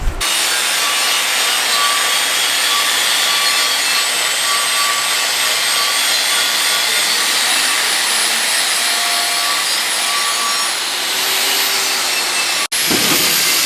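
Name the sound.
buffing out paint after a cut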